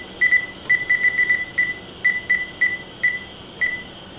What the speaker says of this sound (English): Gonna turn the timer on.